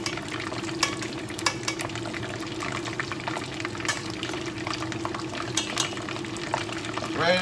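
A sausage fries in a pan with a steady, close sizzle that continues throughout, broken by scattered sharper crackles and pops.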